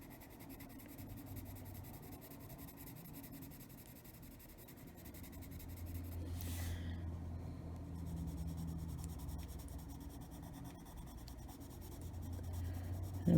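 Colored pencil shading an owl drawing on paper, blending down from green into yellow: a steady, close, soft scratchy rubbing that continues throughout with gentle variation in pressure and no talking.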